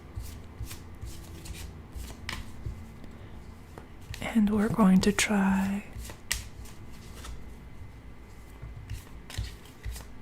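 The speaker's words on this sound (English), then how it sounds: "I'm going to give the cards a little bit of a shuffle." Tarot cards are shuffled in a brief riffle burst mid-clip, surrounded by soft taps and handling noises while a person speaks quietly.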